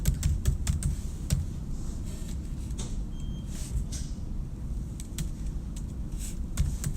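Steady clicking of keys on a computer keyboard as a message is typed, a run of light, irregular taps close by with a low background hum and no voices.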